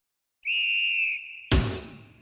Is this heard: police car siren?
no